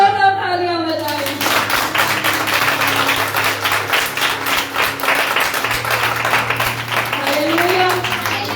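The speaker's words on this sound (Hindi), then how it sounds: "अपनी गवाहियों के लिए जोरदार तालियां बजाएं" Congregation clapping at a Hindi-language church service, loud rhythmic hand claps with some cheering voices, while a sustained keyboard or organ tone runs underneath and rising tones sweep in at the start and end.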